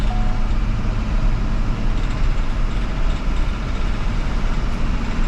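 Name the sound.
school bus engine during a test drive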